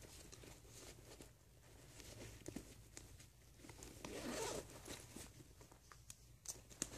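A zip-up pocket on a bag is zipped, a close, quiet rasping zipper pull with soft fabric rustling and handling around it.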